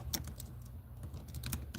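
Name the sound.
typing on a computer keyboard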